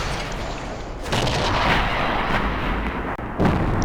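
Heavy artillery fire from an FV304 self-propelled gun in a tank battle video game, a loud sustained blast and rumble with a second boom near the end, no talk.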